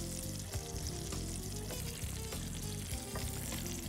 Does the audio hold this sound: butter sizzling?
yes